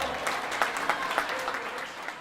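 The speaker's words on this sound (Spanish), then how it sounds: "Un aplauso para ellos," An audience claps at a centennial celebration of a polytechnic institute in Bucaramanga, a brief, moderately loud burst of mixed clapping with a few sharper individual claps standing out.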